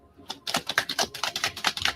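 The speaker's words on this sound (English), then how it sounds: "I'm going to shuffle 2 more times." Tarot cards are shuffled close up in a rapid run of crisp clicking, riffling taps lasting about two seconds, with no voices.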